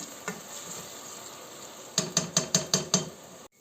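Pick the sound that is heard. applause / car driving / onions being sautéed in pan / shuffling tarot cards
onions being sautéed in pan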